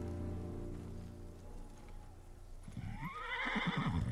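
A samurai horse in the Ghost of Tsushima video game gives a loud, drawn-out whinny near the end, after a low steady hum, with hoof clops and a rain-like patter underneath.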